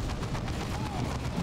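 Ork energy-bubble cannon in Dawn of War 2, several rapid booming shots thumping in quick succession over a short burst, loud and close, with a faint voice underneath.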